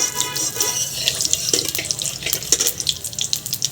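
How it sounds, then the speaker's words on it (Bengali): Dried chillies, bay leaf and whole cumin fry in hot oil for a khichuri made with goat fat, giving a close, busy crackling sizzle with uneven popping throughout. "শুকনো লঙ্কা তেজপাতা আর গোটা জিরে এটা তেলের মধ্যে দিয়ে দেবো ফোড়নটাকে দেখো খুব ভালো করে ভেজে নেব"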